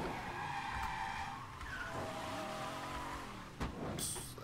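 Car in the video game Mafia III driving the wrong way, its engine droning steadily with rising and falling pitch sweeps and a sharp skid or tire squeal near the end.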